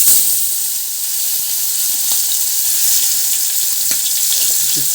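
Sea fish rubbed with salt and turmeric fries in a hot pan, giving a loud, close, continuous sizzle with crackling spatters and no talk.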